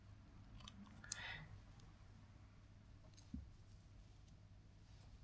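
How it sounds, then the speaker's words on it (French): Scissors snip through the thin fabric edging of a hair prosthesis to free its wefts, giving a few quiet, close cuts spread over a soft, steady background hum. "je coupe ce petit liseré en tissu, hop, et je libère mes 2 trames"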